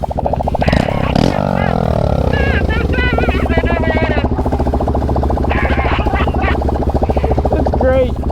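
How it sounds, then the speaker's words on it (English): Loud, close motorcycle engine idling with a throbbing, uneven burble and a few sharp revs early on, while people talk and laugh over it. "I'm going to show you what it sounds like at an idle"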